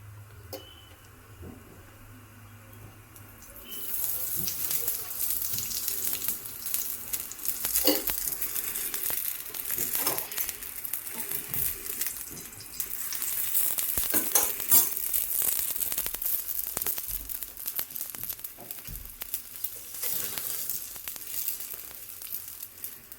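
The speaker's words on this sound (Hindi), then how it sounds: "अब इस पर और तेल लगा दूँ।" Aloo paratha frying in oil on a pan at home, a steady loud sizzle that starts after a few seconds and continues with faint scraping and crackles throughout.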